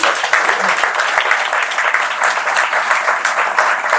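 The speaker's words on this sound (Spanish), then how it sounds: "figura a quem eu também peço uma salva de palmas por sua presença aqui" Loud, close crowd applause at a launch event for a Latin American studies center, honoring a Colombian lawyer: dense, sustained clapping from many hands filling the whole stretch.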